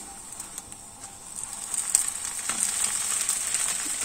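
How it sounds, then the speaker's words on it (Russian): Pancake batter made with semolina frying in a hot pan, a soft continuous sizzle with light crackle that grows slightly louder, close and alone. "вот так выпекаем все блинчики"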